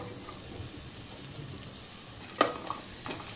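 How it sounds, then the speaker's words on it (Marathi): Onions sizzle softly in a pan, a steady low frying hiss, with a few clinks of a spoon stirring toward the end. "कांदा परतत आलाय आता त्यात आलं लसूण टाकलं"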